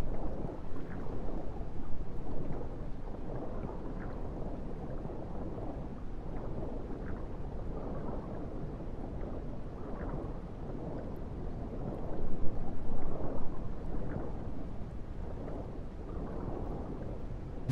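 Steady rain with low rumbling thunder in the dinosaur survival game The Isle, a dense continuous wash of weather noise that swells briefly near the middle, with no talking.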